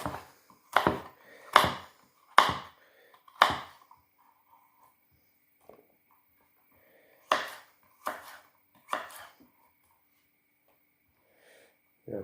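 Carrot cut on a board with a knife for a chicken and veg stir fry: a few sharp, separate chops in two short bursts, close and crisp, with quiet gaps between.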